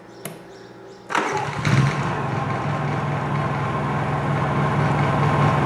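Honda EU3000is generator starting up after sitting unused since last summer: a short pull, then the engine catches and settles into a steady, even running drone that holds to the end, close by with no talk.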